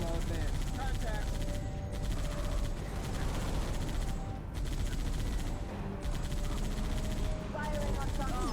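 Sustained gunfire from the video game Halo Reach, including a rotary-barrel weapon, rattles in rapid bursts with short pauses between volleys, loud and dense over a continuous battle din.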